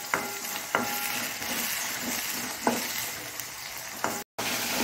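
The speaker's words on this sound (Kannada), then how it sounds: "ಫ್ರೈ ಆಗಿದ್ರೆ ಕಲರ್ ಈ ಗ್ರೀನ್ ಕಲರ್ ಹೋಗಿ ಒಂದೊಂದು ಬ್ರೌನ್ ಕಲರ್ ಆಗುವ ತನಕ ನಾವು ಹುರಿಬೇಕು" Ivy gourd pieces fry with asafoetida in a pan, giving a steady close sizzle with a few sharp clicks from stirring and a brief break near the end.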